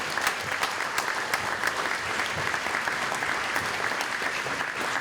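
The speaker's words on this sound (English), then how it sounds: "Let's give a hand to the 2024 inductees" A banquet crowd at a baseball hall of fame induction ceremony applauds its honorees, steady, full clapping from many hands filling the room throughout with no pause.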